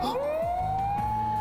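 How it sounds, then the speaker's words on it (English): A police car siren in the Steins;Gate video game, a shrill rising wail that climbs and holds steady over a low hum, loud and close, with no talk. "a shrill siren shatters the night. I look up and see red lights of a patrol car coming this way"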